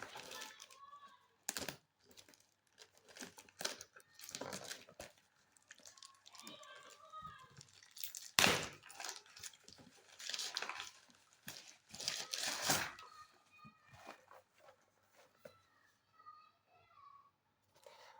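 A Terra Cacia hair fall control product package being cut open with a tool, heard up close as irregular scraping, crinkling and snipping bursts with quiet gaps between them.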